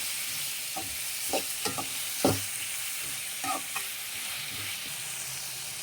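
Onions and tomatoes frying in a pan for potato, black chana and green pea sambar: a quiet, steady sizzle with a few soft scrapes and stirs of a spoon against the pan, close and without talk.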